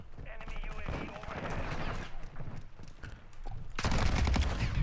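Rapid gunfire from the Cronen Squall in a video game, bursts of fast-firing shots with dense clattering, near and moderately loud, growing heavier toward the end, with game sounds mixed in.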